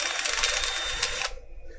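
A drill whines at high speed in a workshop for just over a second, loud and close, then cuts off abruptly leaving quiet room tone.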